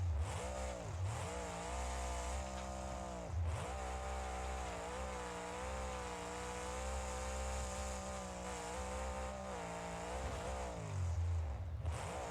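A monster truck engine roars through a hot-day freestyle run, its loud, sustained growl rising and falling in pitch as the throttle swells and drops, heard from a distance with no talking over it.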